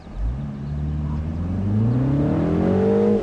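A 2025 Mini Cooper S Convertible accelerating hard, its engine note climbing steadily in pitch with a faint turbo whistle riding above, close and loud with no talking.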